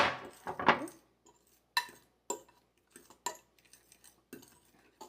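A utensil stirring food in a cooking pot with a little added water: irregular metallic scrapes and clinks against the pot, close and fairly loud, with quiet gaps between strokes.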